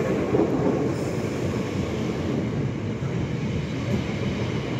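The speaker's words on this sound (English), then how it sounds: "So I'm gonna go catch my train." A passenger train in south-east England rumbles loudly and continuously at close range, a dense rolling roar of wheels on track with a faint high squeal near the start and no speech.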